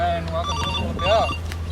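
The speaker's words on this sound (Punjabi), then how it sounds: "ਚੰਦੇ ਦਾ ਫੋਨ" A mobile phone ringtone plays a melodic tone that repeats throughout, heard indoors over background chatter and voices.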